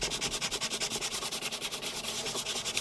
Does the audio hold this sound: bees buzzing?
no